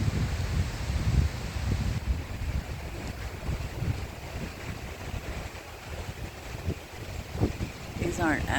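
Gusting wind of an approaching storm through oak trees on a rural property, a broad continuous rushing roar with heavy low buffeting against the microphone that swells and eases over several seconds, with faint sounds near the end.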